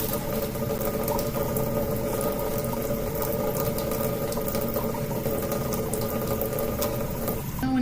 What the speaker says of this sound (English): I'm going to leave the water running because I'm going to have to rinse my hands off after this